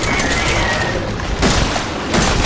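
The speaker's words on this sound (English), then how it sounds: "Use a shotgun maybe." Shotgun fire in the Resident Evil 7 video game, heard as loud, broad booming blasts over constant dense game noise, with two strong bursts in the latter half.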